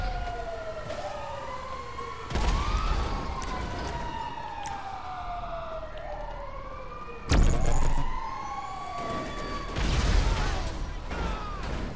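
Wailing video game sirens rise and fall repeatedly across the scene, several overlapping, with occasional louder bursts of engine or crash noise beneath them, from a GTA Online business battle.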